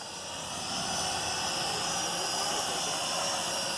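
A Venom Pro GPS streaming drone hovers nearby over a side yard, giving a continuous, loud, steady whine and hiss of spinning rotors that holds without a break.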